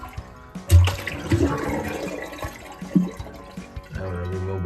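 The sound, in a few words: toilet flushing, draining water from tank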